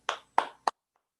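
Audience applause at a virtual school open house: three isolated, close hand claps spaced evenly, then silence.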